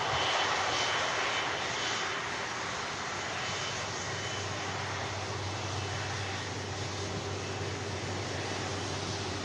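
Jet2's leased air tanker aircraft sit on the runway at Manchester Airport, engines giving a loud, continuous broadband roar that holds steady and slightly eases after the first moments, with no voices.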